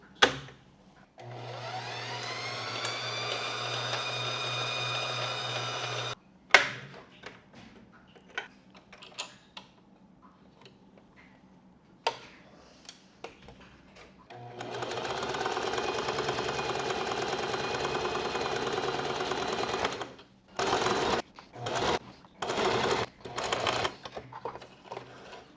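A home sewing machine winding its bobbin, a steady high whirring motor run, then clicks and handling noises, a second long whir, and a final series of short bursts of running.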